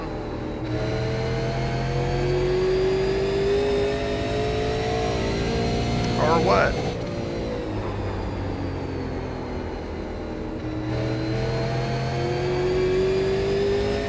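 A super late model race car in iRacing drones and revs steadily, its engine pitch rising and falling through gear changes, loud and close with almost no talk.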